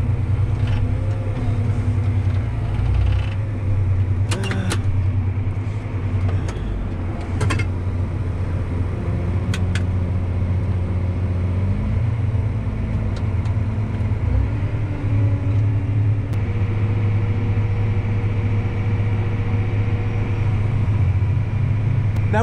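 A grain cart auger unloads corn into a trailer during the corn harvest, giving a steady, loud low mechanical rumble and drone with engine hum and occasional clanks, and no talk.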